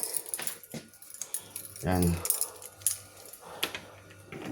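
Keys jangle as a door is unlocked at a home in the UK, a short bright metallic rattle in the middle with a few lighter clinks around it, close by, while a person speaks briefly.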